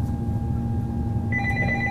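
An incoming call sets a telephone ringing with a steady electronic tone over a low room hum, and a second, higher ringing pitch joins partway through. No one speaks.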